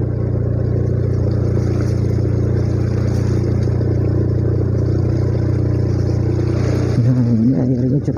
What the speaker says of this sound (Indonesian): kita juga ini menggunakan motor matic ya